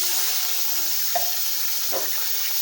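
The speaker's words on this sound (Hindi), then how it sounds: "अब मैं आधी प्याली इसमें पानी डालूँगी" Half a cup of water hits hot ghee in a pan for zarda sweet rice, giving a steady broadband sizzle and hiss throughout with a couple of brief louder splashy bursts, no talking.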